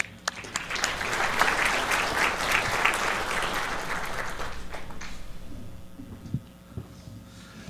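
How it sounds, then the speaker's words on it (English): At an NHRA division awards banquet, a room of guests gives a full round of clapping that holds for several seconds, then thins out to scattered claps and murmurs. "Big round of applause for Jay Hullinger."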